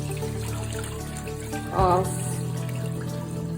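Water drains steadily from goat meat being strained after soaking, for Jamaican curry goat, a continuous running wash with a brief louder splash midway and a short spoken word.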